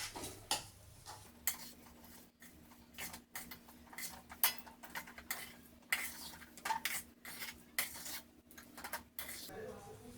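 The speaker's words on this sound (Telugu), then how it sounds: "మనం వేయించిన పల్లీలు అలాగే మనం వేయించిన నువ్వులు వేసుకొని కలపండి" A spoon scrapes and clinks against a pan while roasted peanuts and sesame seeds are stirred together off the heat, producing irregular close metallic taps and scrapes at a quiet level.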